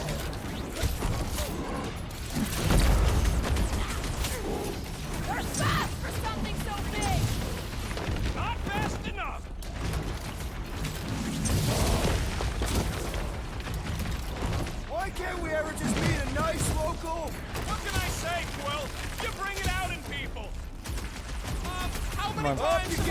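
Explosions and gunfire in the video game Guardians of the Galaxy form a dense, continuous barrage of booms, mechanical clatter and shots over about twenty seconds, with character voices talking over the combat.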